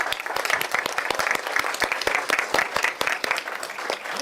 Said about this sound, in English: Can we get a round of applause again for all these special kids?